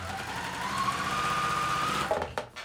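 A sewing machine runs continuously while stitching several seams, a close steady mechanical whir that stops near the end and gives way to a few handling clicks.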